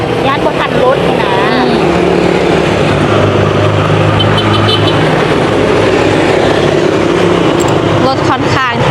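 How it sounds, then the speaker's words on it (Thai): Busy road traffic near a red light, with many cars passing by in a continuous, loud rumble and occasional horn toots, while people talk over it. "รถค่อนข้างที่จะหลายเนาะ"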